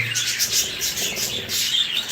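A pet parrot chick gives a rapid series of high, thin chirps, close and fairly loud, repeating in quick bursts over a short span.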